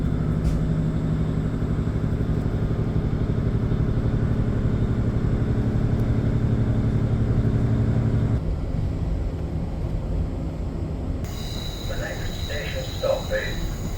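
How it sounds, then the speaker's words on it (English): Loud diesel train engines drone and throb steadily from inside a carriage on the Cleethorpes to Retford line, a thick low hum with a tonal whine that later drops back as the run continues. "Flipping heck, those engines are loud."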